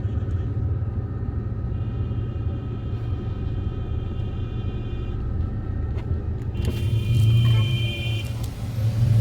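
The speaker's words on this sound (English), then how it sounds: "Welcome to traffic in Liberia." Road traffic rumbles along a street in Liberia, vehicle engines idling and moving nearby in a steady low drone, with brief higher tonal sounds like horns or brakes appearing toward the end.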